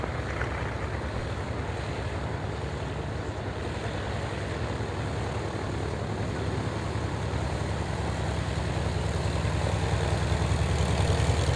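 Douglas A-1 Skyraider propeller aircraft from DCS taxiing, a steady, continuous engine drone with low rumble and airy noise, holding an even level throughout with no voices.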